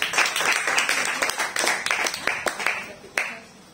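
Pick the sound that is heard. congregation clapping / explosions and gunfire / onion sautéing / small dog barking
congregation clapping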